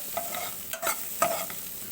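Onion, chili, ginger and garlic with turmeric and salt frying and being stirred in a pan for a fish curry, a soft steady sizzle broken by a few scraping stirs, close and without speech.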